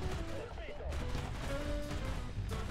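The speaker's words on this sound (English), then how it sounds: "Oh, he's shooting at me." Gunfire from an enemy vehicle in War Thunder crackles continuously beneath dense game noise, steady and loud throughout with no clear separate shots.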